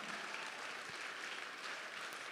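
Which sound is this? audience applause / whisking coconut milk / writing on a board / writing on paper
audience applause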